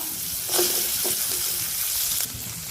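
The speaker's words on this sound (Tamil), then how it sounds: "வெங்காயம் முதல்ல வதங்கட்டோங்க" Steady sizzling of small and large onions frying in a hot pan, with a few soft clinks and stirring sounds, no voices.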